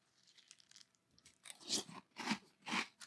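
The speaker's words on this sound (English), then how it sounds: "let's give this a try. Cap'n Crunch's Cinnamon Crunch with milk." Cap'n Crunch Cinnamon Crunch cereal eaten with milk, giving several loud close crunching bites in bursts, with quieter chewing before them and no talk.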